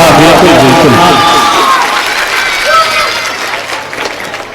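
Children in a mushaira audience clap and cheer together, a loud dense burst that slowly thins out over a few seconds, with crowd voices mixed in.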